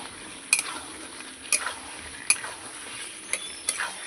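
Chicken and potato pieces being sautéed in a ground spice paste make a soft, continuous sizzle. About five distinct spoon knocks and scrapes against the pan punctuate it, with no talking.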